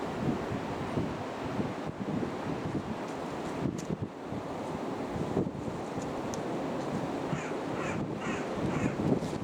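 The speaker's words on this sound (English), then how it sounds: "All the crows and rocks are just squawking about our heads" Crows and rooks squawk overhead at an old abbey, their harsh caws coming from a distance and only faintly over steady, heavy wind buffeting the microphone.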